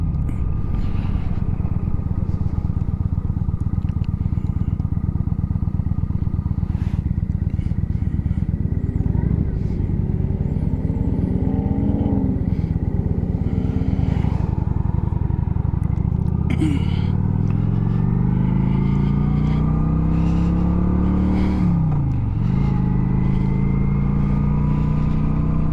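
A Kawasaki Vulcan 900 Classic cruiser, 903 cc, rumbles steadily while being ridden, its engine note rising and falling with shifts and throttle changes under constant wind buffeting, with a rider talking over it.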